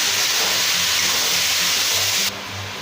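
Ash gourd fries and is stirred in hot oil in a home kitchen pan, giving a loud, continuous close-up sizzling hiss that drops sharply just before the end.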